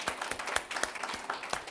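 A small audience at a medical XR talk gives a brief round of applause, individual claps distinct and fairly sparse, moderately quiet and steady over under two seconds.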